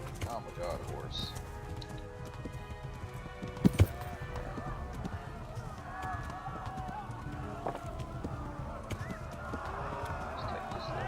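Horse hooves in Kingdom Come clatter in a steady galloping rhythm under game ambience, with a couple of sharp knocks partway through.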